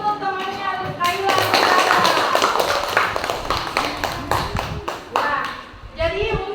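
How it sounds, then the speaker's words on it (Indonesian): A group of children clap for a classmate in a classroom, with a burst of scattered applause and taps under a teacher's voice. Kids' voices join in, then the clapping thins out. "berikan aplaus untuk temannya Kaila"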